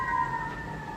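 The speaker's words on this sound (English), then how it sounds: "sirens right now" Emergency vehicle sirens wail outside in a steady, sustained tone, moderately loud and slightly distant, with no voices over them.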